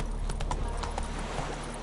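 Roach the horse galloping in The Witcher 3, a brief burst of rapid hoofbeats under a dense, steady wash of game ambience.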